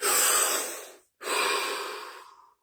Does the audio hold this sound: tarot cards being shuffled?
no